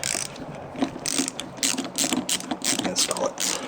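A hand ratchet clicks steadily while tightening a bump stop into a well nut on a vehicle, its rapid pawl ticks loud and close in repeated bursts with no talking.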